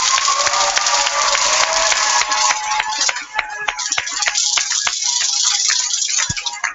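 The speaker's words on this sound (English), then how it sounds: "let's help give them a big round of applause" Audience applause at a Texas Great Debate ceremony, steady dense clapping throughout with some rattling and crowd noise, close and loud, fading slightly toward the end.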